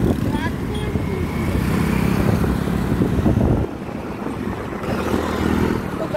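Steady engine drone and road rumble while riding a Honda Activa scooter through city streets in Delhi, continuous and close with wind noise, shifting in tone partway through.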